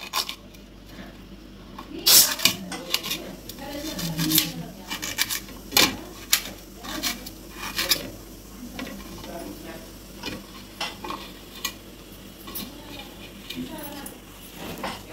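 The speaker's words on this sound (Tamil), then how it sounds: "பூண்டு இஞ்சி மெல்லிசாக கட் பண்ணவும்" Garlic and ginger are sliced thinly with a knife on a board, giving a run of crisp, close cuts and taps in an uneven rhythm over a quiet kitchen background.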